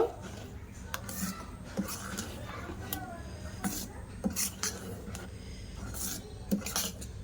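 Chilli and chopped coriander being mixed in a bowl with a spoon, giving repeated light clinks and scrapes of cutlery against dishware at close range, with faint room noise between strokes.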